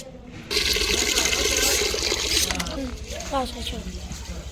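A steady rush of water pouring into a container of rice being washed for chicken biryani, fairly close, with a brief stir and a voice speaking over it.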